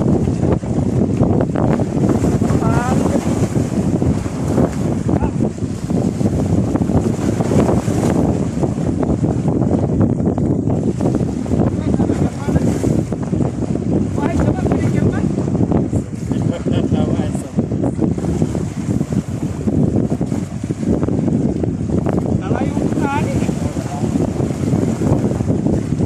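Strong sea wind buffets the microphone while jig fishing with a 30-gram jig lure from a boat, a constant loud roar throughout with someone talking over it.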